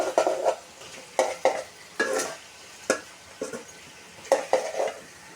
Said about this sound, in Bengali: সব কিছু দিয়ে কষিয়ে নিলাম